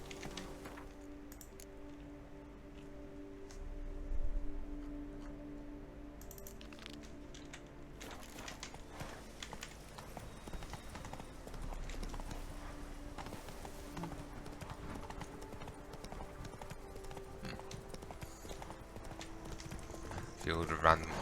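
Hooves clip-clop faintly as horses move about a field in the video game The Witcher 3, soft and intermittent under game music and ambience.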